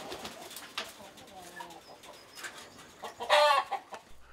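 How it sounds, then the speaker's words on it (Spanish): A rooster bred for cockfighting clucks and gives short crowing calls in bursts, with the loudest cry near the end, set against light background noise at a cockfighting venue. "Será que es un gallo crestón."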